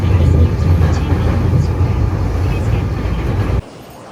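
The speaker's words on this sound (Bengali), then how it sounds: "আমি মেট্রোতে উঠে যাই আগে। এই যে মেট্রোতে প্রচন্ড ভিড়, আমি জাস্ট একদম দরজার পাশেই দাঁড়িয়েছি।" A crowded Shenzhen Line 5 metro train gives a loud, steady rumble and roar from close by the door. The sound cuts off abruptly near the end.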